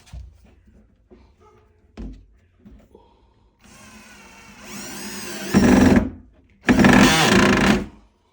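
A power screwdriver drives a 30 mm screw up from below into a white changing-dresser cabinet during assembly; two loud whirring bursts follow a few scattered knocks and handling clicks, close by with no speech.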